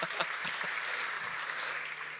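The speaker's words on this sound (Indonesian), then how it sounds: "Kalian kasih tepuk tangan dulu ke Pak William." Audience applause at a talk on investing and Bitcoin, a steady wash of many hands clapping at a modest level, sustained evenly throughout.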